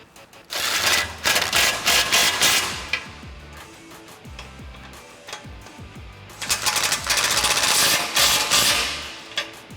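A 21mm socket tightens the bolts on a Barricade Extreme HD front bumper for a 2015-2017 F150. Fast ratcheting bursts and metallic clanks come in two loud runs, with a quieter pause between them.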